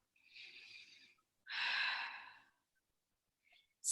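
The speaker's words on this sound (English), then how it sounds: "Nice slow deep breaths always with Pilates." Slow, deep breathing during a Pilates exercise: two long, airy exhales a second apart, the second louder and fuller, followed by a faint short breath, close to the microphone with quiet between.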